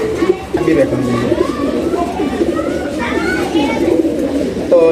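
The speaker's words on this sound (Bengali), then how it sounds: "এই পেয়ারটাও কিন্তু মাসাল্লাহ অনেক সুন্দর একটা কবুতর দেখেন ডাকতেছে নর এবং মাদি" A male and female pair of army-line pigeons coo in repeated soft, throaty phrases close by, while someone talks over them and children are faintly audible in the background.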